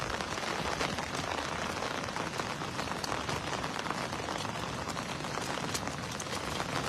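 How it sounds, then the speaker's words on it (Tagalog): Heavy rain pours down steadily during cast net fishing for tilapia, a dense constant hiss of drops hitting surfaces with no pauses. "Malakas yung ulan dito"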